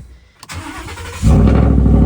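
A straight-piped 5.0 V8 in a high-mileage 2016 Ford F-150 cranks briefly, then catches and bursts into a loud, deep, steady idle rumble, close by with no talking.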